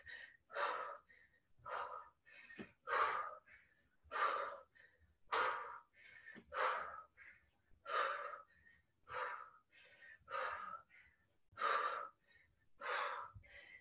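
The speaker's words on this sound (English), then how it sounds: "Keep breathing." Heavy rhythmic breathing during a dumbbell workout, about a dozen close, forceful breaths evenly paced a second or so apart, with no other sound.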